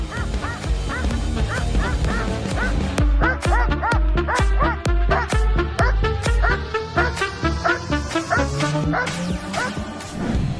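A combat-trained dog gives a rapid string of loud, sharp barks close by, over a thumping rhythmic backing beat that carries through the whole stretch.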